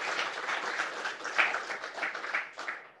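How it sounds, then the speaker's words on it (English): A small audience at a talk on a behaviour change program claps warmly, with individual hand claps distinct and fairly close, in uneven bursts lasting a few seconds. "A round of applause for Kim and Ricki as well,"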